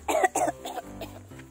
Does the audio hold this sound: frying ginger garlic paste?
no